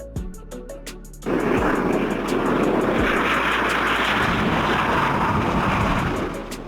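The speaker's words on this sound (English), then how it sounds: "Private jet." A private jet passing, a loud steady broadband engine roar that swells in abruptly after a brief quieter stretch and holds, close and dominant, before easing slightly at the end.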